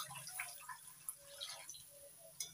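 Water poured from a vessel into ground cashew paste for a vegetarian soybean curry, giving faint, soft dripping and splashing over a little under three seconds, with no talk.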